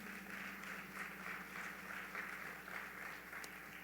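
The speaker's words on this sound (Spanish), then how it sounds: "dale un aplauso al Señor." A church congregation claps together during a sermon, a continuous even wash of applause from many people, heard fairly faint and distant without talk over it.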